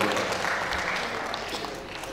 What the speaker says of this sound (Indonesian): Tepuk tangan untuk Pak Wali.